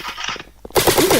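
Roblox airsoft game gunfire: a quick burst of shots followed by a louder, dense rattle of rapid automatic fire, close and sharp.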